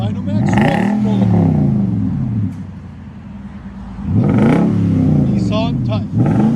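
A 2011 Nissan Titan SV Texas Edition 5.6L V8 with a Dynomax Race Bullet exhaust and 5-inch tip revs loudly twice, each deep rumble climbing and falling back to a throbbing idle.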